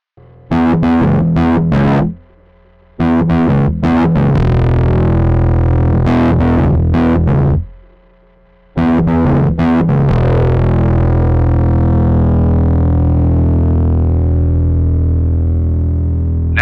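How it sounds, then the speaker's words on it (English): Distorted bass guitar riffs through an overdrive distortion pedal with a Marshall-style crunch, played loud and up close, chugging in bursts with pauses, ending on a long sustained ringing note. "I'll start by getting some overdriven distortion using Keytar's Plexion"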